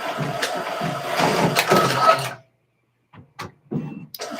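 A sewing machine stitches appliques onto fabric with a steady, busy mechanical whir for about two seconds, then stops abruptly, followed by a few short clicks and bursts nearby.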